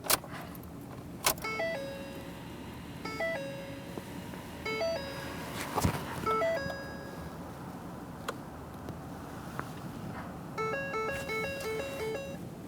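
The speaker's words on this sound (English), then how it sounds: "I could hear both of those caliper motors functioning properly" Rear brake caliper motors on a 2015-2020 Ford F-150 cycle in parking brake service mode, giving repeated short stepped electronic tone sequences in bursts, close and fairly quiet, with faint clicks between them and no talking.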